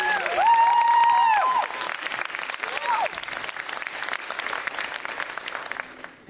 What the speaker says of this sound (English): I'd just like everybody to give my parents a round of applause